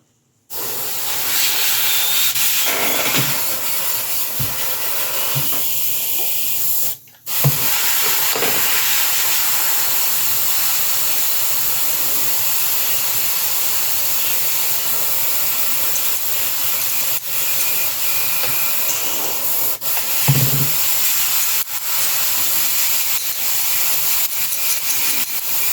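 Airbrush or spray gun hissing steadily as base coat paint goes onto a 1/6 scale Predator sculpture, a continuous close spray with a brief pause early on and no talking.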